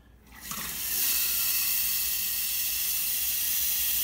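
Water runs from a nozzle into the top reservoir of a Berkey water filter. It starts as a faint trickle, then builds within the first second into a steady, loud hiss of filling that continues unbroken.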